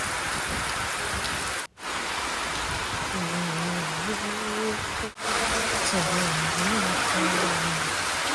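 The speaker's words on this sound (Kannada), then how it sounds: "ಸಿಕ್ಕಾಪಟ್ಟೆ ಮಳೆ ಸೌಂಡ್ ಇರೋದ್ರಿಂದ ವಾಯ್ಸ್ ಓವರ್ ಮಾಡ್ತಾಯಿದ್ದೀನಿ" Steady heavy rain roars continuously in the background at a large village house while a voice speaks over it.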